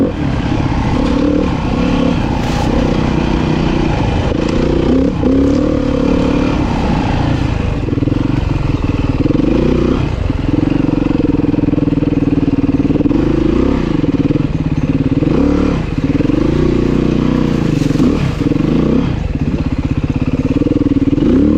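A Beta 390 enduro motorcycle churns through deep mud at the Alligator Enduro, its engine droning steadily and close with frequent throttle surges and revs over clattering wheel spin for the whole stretch.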